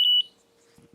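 A short, sharp electronic beep from an Escort Redline radar detector alerting to K-band radar rings twice in quick succession, loud and close, followed by near silence and a faint low hum.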